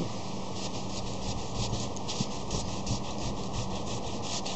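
Steady rubbing on an RV roof as a spot is cleaned by hand, a continuous close scrubbing hiss with a quick, even back-and-forth stroke rhythm and no voices.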